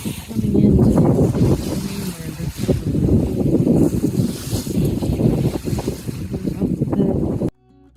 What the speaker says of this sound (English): We had about 2 meters of swell, great winds, clear skies, which made for a beautiful sail.